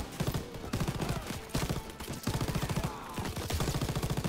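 Rapid automatic gunfire from the Call of Duty WWII campaign, loud repeated bursts with brief pauses between them throughout.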